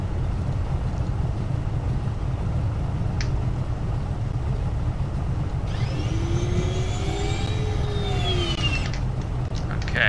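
Floats of a Grumman Goose lowering in Microsoft Flight Simulator X: a gliding mechanical whir of rising and falling tones over a constant engine drone, starting partway through.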